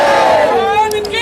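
Large crowd of devotees inside the Mahakaleshwar temple, a dense wash of many voices chanting and calling out together, loud and close throughout with a rising cry near the end.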